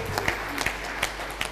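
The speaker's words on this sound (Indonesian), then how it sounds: "Kita berikan tepuk tangan untuk pembicara ketiga dari tim Pro" A student law debate audience in a semifinal round applauds the third speaker with a full, even burst of clapping that holds steady throughout.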